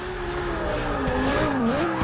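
Engine note with sliding pitch and tire squeal from a Lamborghini Urus drifting in Forza 6, loud and continuous throughout with no talk.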